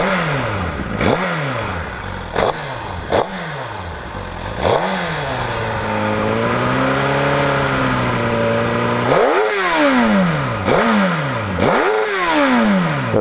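A 2015 Suzuki GSX-R 1000 engine revs up and down repeatedly, with sharp throttle blips, a steady held rev in the middle, then more rising and falling surges, loud and close.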